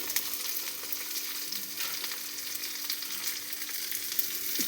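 Soybean masala with tomato frying in a pan, a steady dense sizzle holding evenly throughout with faint occasional stirring, close and alone with no voices.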